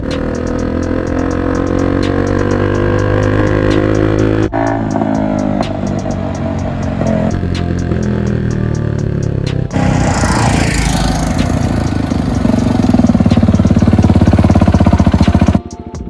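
KTM RC390 (BS3) motorcycle engine with a loud aftermarket exhaust, a steady raspy idle that climbs into sharper revving toward the end, close and continuous throughout.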